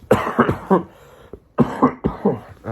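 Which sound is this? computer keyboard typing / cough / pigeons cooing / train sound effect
cough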